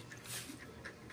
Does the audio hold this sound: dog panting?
yes